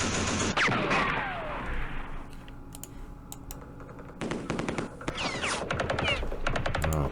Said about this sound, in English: We did cause a damage there with that machine gun.